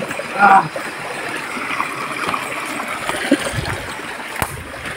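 Water splashes and trickles as someone wades across a river at night, with a brisk splash near the start, then softer sloshing steps and a running stream beneath.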